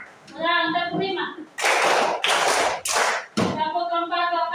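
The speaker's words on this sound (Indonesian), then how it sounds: "Ulang, tepuk 5." A class of students clap together in a counted pattern, several broad bursts of group clapping between stretches of a teacher's speech, close and fairly loud.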